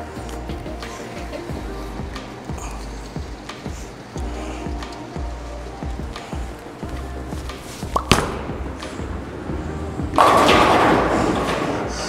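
A Hammer Nu Blue urethane bowling ball is released and rolls down the lane at a bowling alley, with a dull thud on release and a steady rumble, then a loud burst of pins crashing near the end.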